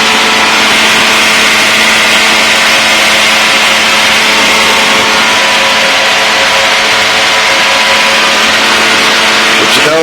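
A Challenger II light aircraft engine drones steadily in flight, a loud, continuous buzzing roar heard from inside the plane that stays constant the whole time.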